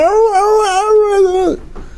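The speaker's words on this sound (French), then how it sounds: "Vous entendez le chien aboyer, pleurer." A dog reunited with its owner gives a long, loud, rising and wavering howling whine up close, ending abruptly and followed by faint snuffling noise.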